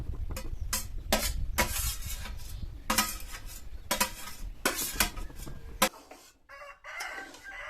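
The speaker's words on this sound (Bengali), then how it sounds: "তারপরে ভাতটা এইভাবে নেড়ে চেড়ে নিতে হবে" Cooked cooled rice with spice paste and fried capsicum stirred in a wok over low to medium flame for chicken tawa pulao, repeated scraping strokes of a spatula in an irregular rhythm, close, then a brief quieter pause.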